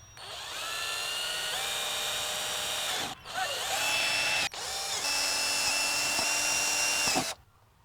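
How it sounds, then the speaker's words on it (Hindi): An electric drill bores holes in the plastic casing of a Saregama Carvaan, giving a steady, close, high-pitched whine that briefly cuts out twice before stopping. "ड्रिल मशीन ली दोस्तों अपनी, और ये देखिए बहुत ही ध्यानपूर्वक मेरे को छेद करने हैं"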